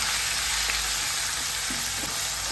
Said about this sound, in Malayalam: ഇനി ഇതിലോട്ട് ഈ സവാളയില്ലേ സവാള ഇട്ട് കൊടുക്കാം ഈ കറിവേപ്പില ഇട്ട് കൊടുക്കാം